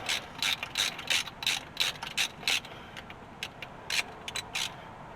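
Close, crisp ratchet clicking in a dozen or so quick bursts with short pauses between, as a part is unscrewed from the Carter two-barrel carburetor on a Dodge D600 truck; no talking.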